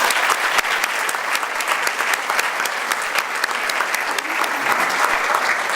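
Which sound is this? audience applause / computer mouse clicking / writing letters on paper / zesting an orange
audience applause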